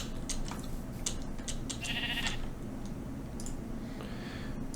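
A sheep in Minecraft bleats once, a short wavering call heard clearly over a steady low background hum, with faint ticking clicks scattered around it.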